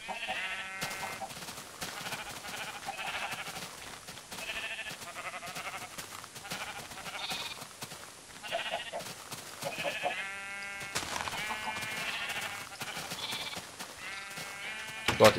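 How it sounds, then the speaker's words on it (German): Many sheep in the video game Minecraft bleat over and over in a crowded pen, with overlapping calls at a steady, moderate level. "Ich züchte gerade voll viele Schafe und so."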